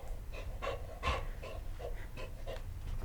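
A dog pants steadily at close range, quick rhythmic breaths repeating for a few seconds with no talk over it.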